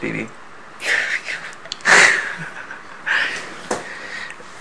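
A sudden sneeze bursts out amid casual talking, with breathy sounds and voices before and after it.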